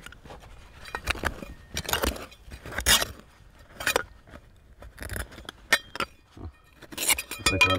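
Ornate pressed glass hand or pedestal lamp, dug from the ruins of an abandoned stone bank vault, clinking and chinking repeatedly as it is handled, with bright irregular taps and scrapes close up and no talk.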